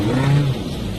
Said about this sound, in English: Now I've got the touring cars coming up behind me.